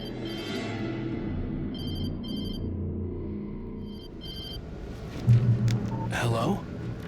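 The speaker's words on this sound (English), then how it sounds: "She was startled by the phone." A telephone rings in the video game Alan Wake: The Signal: short bursts of bright electronic trilling repeat a few times over a dark, rumbling ambient backdrop, followed by a louder low swell.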